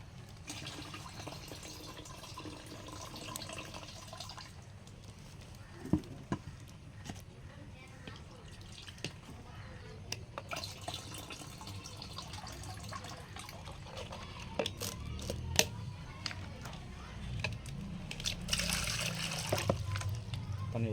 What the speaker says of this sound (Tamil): முதல்ல தண்ணியை வடிச்சுக்கோம்